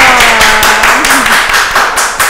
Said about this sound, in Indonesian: Wah, tepuk tangan dulu dong.